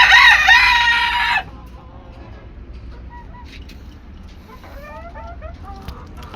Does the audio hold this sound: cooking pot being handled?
no